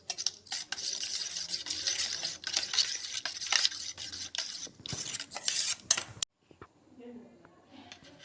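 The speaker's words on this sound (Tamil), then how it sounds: "உப்பு போட்ட அப்புறம் நல்லா கலக்கிக்கிற வேண்டியதான்." Salted egg mixture stirred in a bowl for an egg poriyal, a utensil scraping and clinking steadily and close for about six seconds before it stops, then faint kitchen noise.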